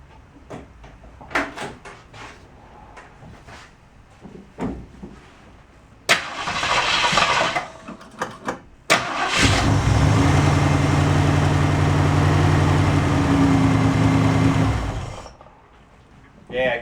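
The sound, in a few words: 1967 Ford Mustang engine starting and idling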